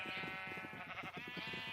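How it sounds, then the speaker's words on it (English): Minecraft sheep bleat in a rapid overlapping series of short nasal calls, close and moderately loud, with no talking over them. "Sheep, oh my goodness, look at this."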